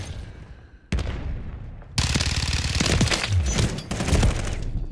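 Fennec SMG fire in Call of Duty MW3 comes as a sharp single shot, then a long, loud rapid-fire burst of dense, fast automatic gunfire with no speech.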